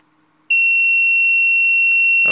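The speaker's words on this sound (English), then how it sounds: "I'm gonna retract my gear. 3 second beeping," A steady electronic beep with two high pure tones starts abruptly after a brief quiet and holds loud and continuous before a DIY landing gear retracts, with a faint rustle near the end.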